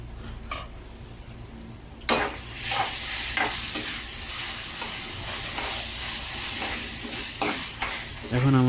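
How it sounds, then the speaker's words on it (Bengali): Green chilies sizzle and fry in a pan while a utensil stirs and scrapes against the metal, giving repeated clattering strokes over a steady close hiss. "কাঁচামরিচগুলো ভালো করে মিক্স করে আমি এখন এটা ঢেকে দেব"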